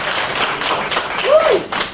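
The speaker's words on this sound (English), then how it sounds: "I don't know who you're clapping for, but I'll just take it personally that you're clapping for me." An audience claps during a live debate, a brisk crowd patter with a voice briefly heard over it.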